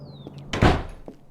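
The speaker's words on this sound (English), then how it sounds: "You can go to her now and shut the door behind you." A door is pushed shut in a doctor's office with a single solid thud, loud and close, followed by a faint latch tap, with quiet room tone around it.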